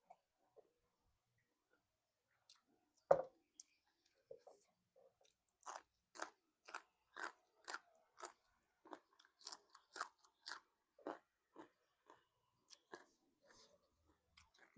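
Crunchy Lao-style som tam papaya salad is chewed close up, with a steady run of sharp, crisp crunches at a regular pace; the room is otherwise quiet and there is no talk.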